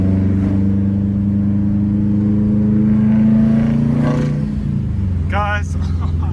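A Subaru WRX STI with a stage 2 e-tune accelerates hard, its engine note climbing steadily and loudly up close, then easing off with a brief sharp sound near the end.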